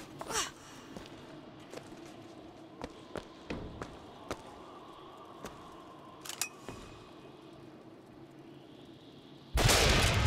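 Sharp gunshot reports from a sniper rifle scoring a headshot in BioShock Infinite on 1999 Mode, several crisp cracks scattered over a quiet game ambience, with a loud burst of noise at the very end.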